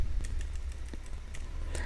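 Quick keystrokes tap on a computer keyboard in an irregular run of light clicks over a low steady hum.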